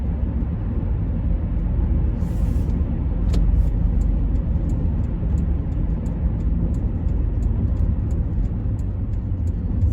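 Steady traffic on a road carries on throughout as a continuous low rumble of cars passing, broad and even in level, with faint intermittent high ticks above it and no speech.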